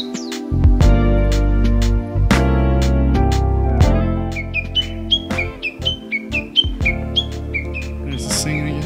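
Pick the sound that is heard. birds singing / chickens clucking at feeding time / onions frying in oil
birds singing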